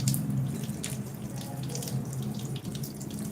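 Water runs steadily from a tap into a sink as hands are washed for wudu. The splashing is close and continuous with small fluctuations, and no one speaks.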